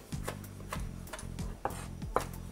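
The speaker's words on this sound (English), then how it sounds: "Lime leaves, cafe lime leaves. I'm going to chop all this together." A knife chops lime leaves on a board, giving a steady run of crisp, close taps over a low humming background, with a couple of sharper knocks toward the end.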